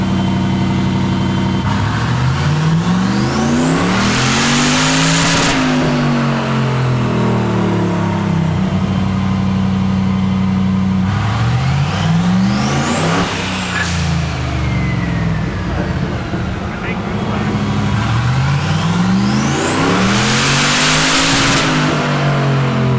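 A big-turbo LS6 engine in a Volvo sleeper revs hard on a dyno in repeated pulls, each climbing steeply in pitch before dropping back. It sounds loud, close and continuous, with turbo whine over the engine roar.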